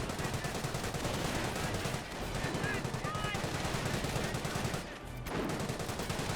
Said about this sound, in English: Hand grenadiers also firing behind some good heavy cover.